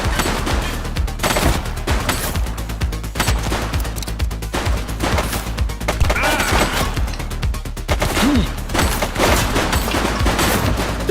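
Sustained rapid gunfire in The Precinct video game keeps up dense, continuous bursts for several seconds, loud and close, with no talk over it.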